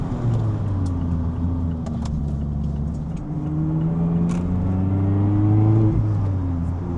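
A Mazda Miata accelerates through a turn, its engine note climbing and shifting pitch in steady close revs for several seconds, loud and continuous with no talking.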